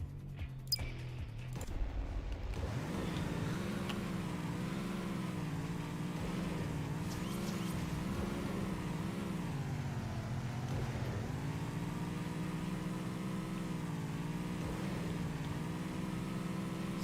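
A racing car's engine roars steadily in Acceleracers Ultimate Race, a sustained mid-pitched drone that rises and falls slightly as the car speeds along, loud and continuous after a brief quieter start.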